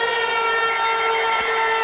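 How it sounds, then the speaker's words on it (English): Half-time siren at a Penrith versus Bradford Bulls rugby league World Club Challenge match in 2004: a loud, steady, sustained tone that holds unbroken for the whole stretch. "And there is the half-time siren"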